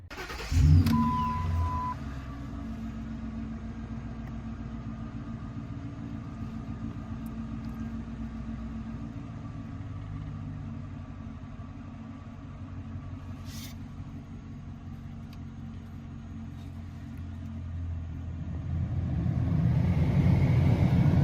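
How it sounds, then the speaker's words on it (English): 2011 Ford Crown Victoria starting with a short crank, then idling as a low, steady, fairly quiet rumble, with the engine rising slightly toward the end. "So I'm gonna start the car"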